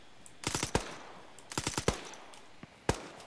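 Gunfire in the military shooter Arma 3, shots walked onto a target about 400 out: two sharp automatic bursts of several rapid cracks, then a faint lone shot and a final single loud report, close and with no voices.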